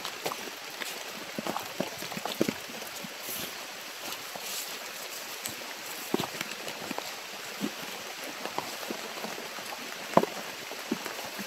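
Rain pattering down steadily outdoors during a rainy exploration trek, a soft continuous hiss broken by scattered sharper drips and taps, fairly quiet, with no voices.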